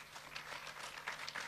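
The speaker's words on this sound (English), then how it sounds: "give an applause to the ladies and gentlemen who have come" A conference audience at a communications consumer parliament gives sustained applause, a dense wash of many hands clapping, fairly distant and steady for a short stretch.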